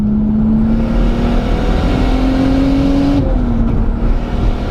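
A turbocharged Lexus IS200 with a screamer pipe drones loudly at steady revs from inside the car, engine pitch slowly rising, then dropping off as the throttle lifts, with no talking.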